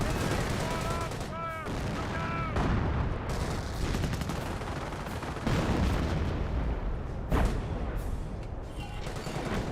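Priest self-propelled artillery in Company of Heroes fires repeated heavy booms and bursts amid a dense battlefield din, loud and continuous, with some tonal calls and no clear talk.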